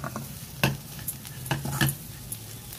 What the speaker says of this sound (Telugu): ఇంకొంచెం సేపు వేగనివ్వాలి